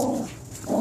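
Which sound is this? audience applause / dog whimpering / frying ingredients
dog whimpering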